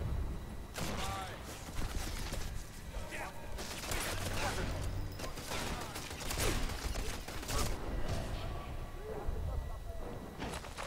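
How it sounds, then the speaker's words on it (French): Artillery fire in the World War II shooter Sniper Elite 4, a steady barrage of broadband blasts and rumbling impacts, with players talking over the continuous noise. "On se prend de l'artillerie, barre-toi!"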